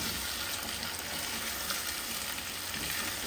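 Food fries in a pan with a dense, constant sizzle while being stirred and mixed, the hiss steady and close from start to finish with no talking over it.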